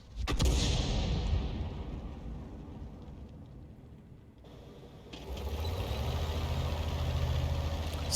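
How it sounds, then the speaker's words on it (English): A tank's main gun in World of Tanks fires a single loud shot near the start, and its crack dies away over a couple of seconds. Afterward a low engine idle and mechanical rattling swell back up and hold steady. "He's going to fire a round into that corner."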